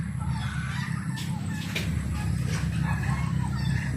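Farmyard fowl and geese honk and cackle at a rural farm over a constant low outdoor rumble, with scattered calls overlapping at moderate distance.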